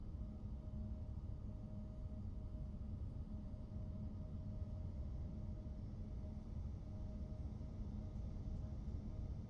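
Embraer E175 jet engines in X-Plane 12 spooling up on the runway, a steady broadband rumble with a thin constant whine, holding even and continuous throughout.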